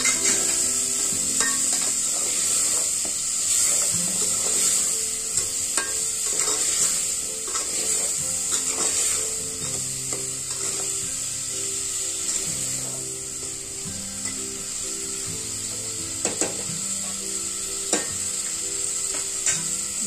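Vegetables stir-fried in a metal pot, a constant hiss of frying broken by repeated scraping and clanking of the spoon against the pot, close and busy throughout.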